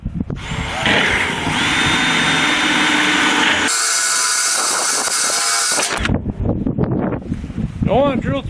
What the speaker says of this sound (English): I don't want to drill through both pipes, just this outside bit.